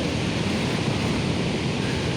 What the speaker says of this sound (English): just at Nugget Creek waterfall